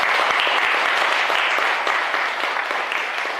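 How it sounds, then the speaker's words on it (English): A hall full of people applauds the standing prefects at a primary school leaving ceremony, steady dense clapping with a few sharper individual claps, loud and continuous throughout. "Give them a round of applause, ladies and gentlemen."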